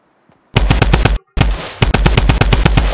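Automatic weapon fire in the video game Fortnite, two loud rapid bursts of evenly spaced shots separated by a brief gap.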